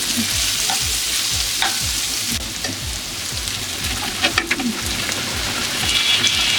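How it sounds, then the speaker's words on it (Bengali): Bitter gourd fries in a pan, a constant loud sizzle broken by rhythmic scraping strokes of a spatula stirring it, plus a few utensil clicks, with no speech. "করলাটা আবার একটু নেড়ে দিচ্ছি। আমরা আবার একটু ভাজা ভাজা করলা খাই।"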